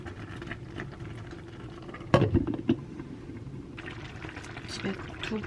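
Grandmother's homemade perilla oil poured from a bottle, a short liquid glug and splash in the middle of the clip, with someone talking before and after.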